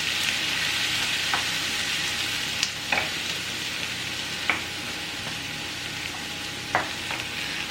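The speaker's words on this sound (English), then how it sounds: "I'm gonna fry it up until everything gets soft" Garlic and peppers fry in a pan for saltfish spring rolls, a steady close sizzle with occasional sharp clinks and scrapes of stirring.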